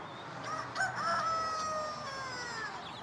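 A rooster crows loudly and close by among chickens, one long drawn-out call over a steady background hum of outdoor noise.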